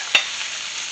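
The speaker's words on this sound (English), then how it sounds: "Let these sear for a minute." Strips of poblano pepper searing in a hot pan give a steady, bright sizzle, with a brief clink or scrape near the start, close and alone without any talk.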